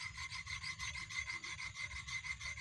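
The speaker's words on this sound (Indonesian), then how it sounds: "Nah, kita asah pinggir sini sama pinggir sini." A rubber-tapping knife is sharpened by rubbing it against an abrasive, producing faint, steady, rhythmic scraping strokes close by.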